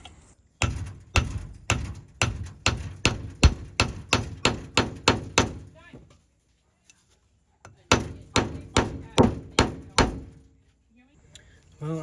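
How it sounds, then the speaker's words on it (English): A hammer striking a fuel injector on a 1984 International 484 tractor, two bursts of rapid, evenly spaced loud metallic blows, about a dozen then seven, separated by a quiet pause. "we'll get this threaded in and we'll try to hammer it"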